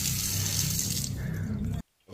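A household tap runs at full flow, a loud broadband hiss of water that stops abruptly near the end, then briefly resumes.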